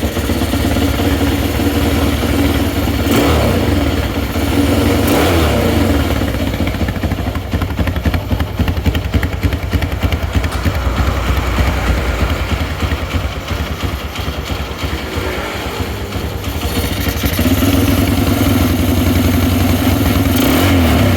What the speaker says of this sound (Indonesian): kita mau dengerin suara mesinnya dulu. Kita nyalakan.